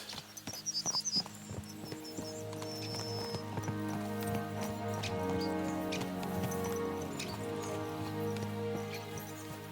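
Steady clip-clop of horse hooves galloping under a sustained musical score, with a brief bright jingle at the start, in the video game Kingdom Come: Deliverance II.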